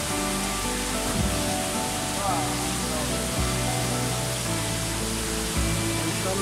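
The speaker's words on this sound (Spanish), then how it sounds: "lo que es este bonito catarata" The waterfall at Chancolin, Santa Cruz Barillas, in Guatemala, gives a loud, steady roar of falling water heard up close from the rocks below, while someone speaks over it.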